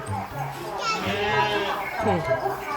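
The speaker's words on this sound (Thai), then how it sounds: "แกะร้องทักทายแล้ว" A sheep bleats once at a zoo in Ayutthaya, a wavering call rising over steady background chatter from children and adults.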